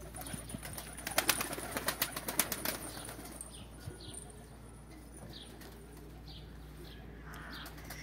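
Pigeons flap their wings in a burst of rapid beats, then soft cooing and faint chirps continue over a quiet background, with no talking.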